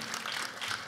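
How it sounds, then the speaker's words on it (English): Applause for a drum group at an awards banquet: a steady wash of many hands clapping, moderately loud and continuous through the moment. "Give the drum group a round of applause."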